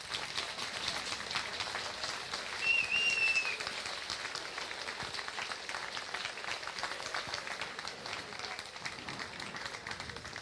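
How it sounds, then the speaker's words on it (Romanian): An audience claps for graduates at the graduation ceremony of Colegiul National Matei Basarab, a steady sustained applause filling the hall, briefly swelling with a faint whistle near the start. "v-aș invita pe dumneavoastră, pe însoțitori, să îi aplaudați pentru că au ajuns până aici"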